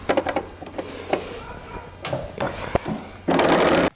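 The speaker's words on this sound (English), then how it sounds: "I'm just going to whip this together at the serger" After scattered handling clicks and fabric rustle, an overlock serger stitching dress seams runs in one loud, steady, whirring burst for about half a second before stopping.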